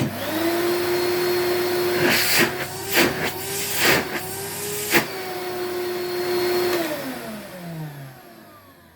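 An Electrolux cylinder vacuum cleaner runs with a loud steady whine and hiss, broken by a few bumps and clicks, then its motor winds down at the end.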